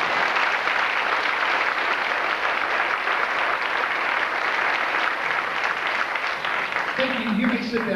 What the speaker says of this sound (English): Let's give all the recipients of the Citizenship Award a nice round of applause.